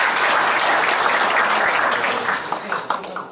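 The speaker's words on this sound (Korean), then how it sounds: "큰 박수 부탁드립니다" Audience clapping at a business breakfast meeting to greet an introduced guest, a dense burst of applause from a room of people that thins out and scatters toward the end.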